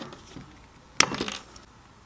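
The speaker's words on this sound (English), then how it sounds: "I'm going to go ahead and cut this wire." Guitar fret wire is snipped during fretwork on a first electric guitar build: one sharp metallic snip lands in the middle, followed by a brief light rattle, with quiet room tone before and after.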